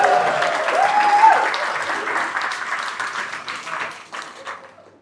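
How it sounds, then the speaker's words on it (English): Wedding guests applaud during a speech, a dense burst of clapping that swells, then gradually thins and fades over several seconds, with a brief voice at the start. "so big round of applause for them."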